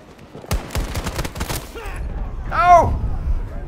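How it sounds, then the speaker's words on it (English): Rapid bursts of gunfire crackle through a firefight in Battlefield 2042, several sharp close shots clustered in the first second and a half, followed by a short shouted voice over ongoing battle noise. "Someone's shooting here."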